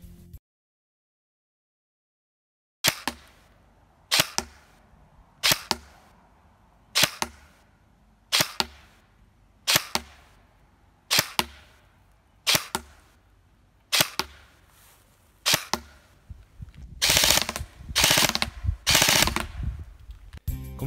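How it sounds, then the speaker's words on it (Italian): G&G GC16 Predator airsoft rifle in Battleship Grey firing test shots: after a brief silence, a dozen evenly spaced single sharp cracks, then a closing burst of rapid shots, all loud and close with no talk. "Adesso vediamo le prove di tiro effettuate con questa replica."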